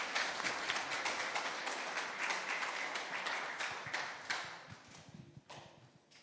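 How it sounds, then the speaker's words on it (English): Dense crowd applause at a Samoan Christmas church service, steady and fairly close, thinning and fading out over the final seconds. "Round of applause, please"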